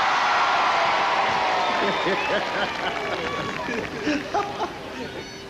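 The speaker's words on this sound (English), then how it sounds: "Give him a round of applause." Crowd applause and cheering at an outdoor It's a Knockout team games event in 1982, Cockermouth against Keswick and Maryport, a dense steady wash of clapping with voices and shouts mixed in, fading slightly over time.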